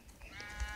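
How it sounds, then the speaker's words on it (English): A sheep in Minecraft bleats once, short and faint, with no voices over it. "Whoa. Sheep."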